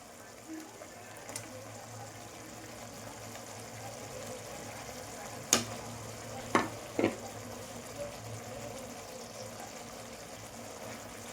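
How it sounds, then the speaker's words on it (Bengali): Chili flakes frying in a pan give off a faint, steady sizzle while being stirred, with a few sharp clinks and scrapes of the utensil standing out. "চিলি ফ্লেক্সটা দিয়ে একটু নাড়াচাড়া করে নেব"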